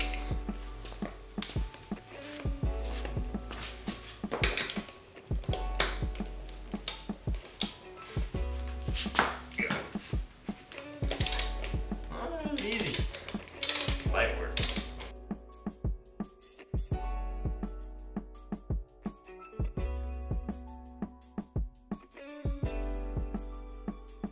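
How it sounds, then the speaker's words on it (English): Lug nuts on a Yamaha Banshee ATV being broken loose with a large torque wrench in a garage, giving repeated metallic ratcheting clicks and clunks in bursts, loud and close with no talk. "So we're gonna try and break all these off with the Big Daddy torque wrench."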